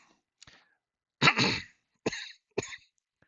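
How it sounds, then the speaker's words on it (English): A man coughs several times close to the mic, one short cough followed by a heavier double cough and two more sharp coughs, separated by silence. "Whew, I was coughing."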